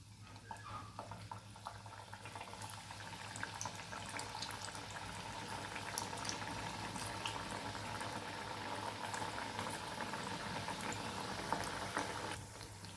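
Puris made with maida and potato deep-fry in hot oil, giving a faint, steady bubbling hiss that runs throughout.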